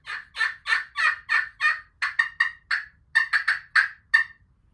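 A turkey hen yelps in a long series of loud, close, evenly spaced calls that come in quick runs with brief pauses, with no other sound behind them.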